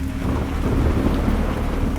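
A heavy thunderstorm with steady pouring rain and a deep rolling rumble of thunder forms a loud, dense, continuous wash, used as a sound effect in an audio drama, with no voices.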